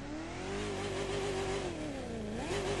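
A car engine in the racing game The Crew 2 holds a steady, loud drone, its pitch wavering slightly and dipping briefly near the end before climbing again, with no voices.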